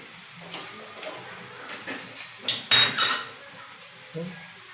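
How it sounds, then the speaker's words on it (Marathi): Sev frying in hot oil is turned over in a metal pan, with scattered scrapes and clinks of the utensil, a few sharp metallic bursts in the middle, and quiet bubbling between them. "आता ही शेव दोन्ही बाजूने अशी छान शेव आपल्याला आहे ना परतून घ्यायचे"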